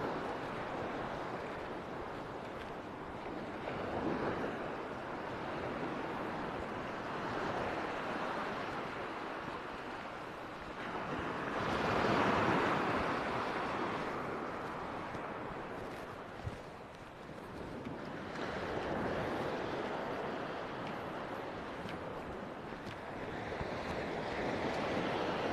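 Calm, flat sea washes gently onto the beach at Kumköy in March, a soft continuous surf rush that swells and recedes in slow waves, with light wind noise over the microphone and no voices.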